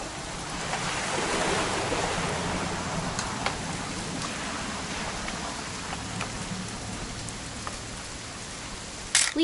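Steady rain falls in the video game What Remains of Edith Finch, a soft continuous hiss of drops with scattered faint ticks and a brief louder clatter at the very end.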